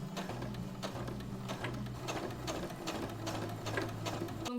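A sewing machine topstitching close to the edge of a bag handle with a long 3.5–4 mm stitch, a steady rapid mechanical chatter with brief pauses and restarts, heard faintly on its own.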